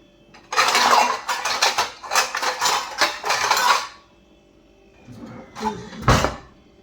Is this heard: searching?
yes